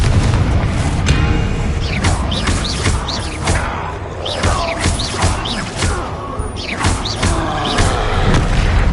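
Confringo fire spells exploding in Hogwarts Legacy combat, a dense run of loud booms and blasts layered with crackling spell effects, continuous and close throughout.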